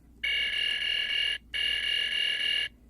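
A Thinkway Buzz Lightyear toy fires its electronic laser effect, two steady, shrill, buzzing beeps of about a second each with a brief gap, close and alone.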